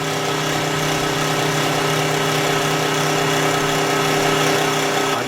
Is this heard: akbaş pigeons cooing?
no